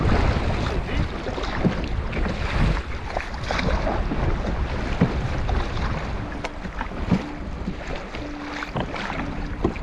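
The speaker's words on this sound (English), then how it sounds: "we found ourselves battling a headwind, which made paddling through the wavy shallows quite challenging" Canoe paddling through wavy shallows on a large lake into a headwind: continuous wind buffeting and water sloshing dominate, with rhythmic paddle splashes and hull slaps throughout, loud and close.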